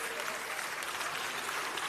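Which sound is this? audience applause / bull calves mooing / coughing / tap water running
audience applause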